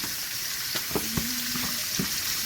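A T-bone steak fries in butter with a continuous close sizzle, broken by a few soft clicks and a faint brief tone, with no talk over it.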